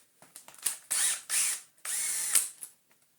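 Powered screwdriver backing a screw out of a Dyson DC14 vacuum cleaner, heard as three short, loud whirring bursts separated by brief clicks and pauses, close up with no talking.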